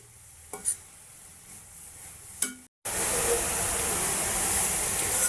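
Grated carrots stir-fried in a pan for carrot halwa, a few scraping stirs at first, then a steady loud sizzle after a brief gap.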